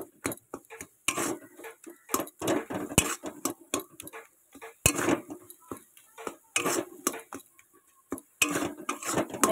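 A spoon stirring tomato chutney with salt and turmeric in a metal pan, close irregular clinks and scrapes against the pan in quick bursts with short pauses.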